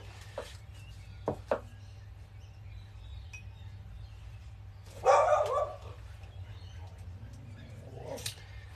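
A dog barks in a backyard in southeast Queensland, Australia: a couple of short, distant yaps early on, then a louder burst of barking mid-way over steady low background hum.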